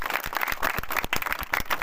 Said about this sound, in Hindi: जोरदार ताली लगाओ बिहार